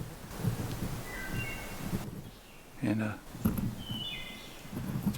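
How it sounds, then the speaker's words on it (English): Wood thrush singing in woodland along a trail near old coal mines, a few faint, fluting phrases in the distance while a person talks and footsteps rustle close by. "You can hear the woods robin singing in the background."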